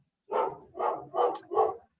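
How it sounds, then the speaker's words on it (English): A single dog barks four times in quick succession, each bark short and evenly spaced, heard alone and fairly near with silence around it. "sorry about the barking dog"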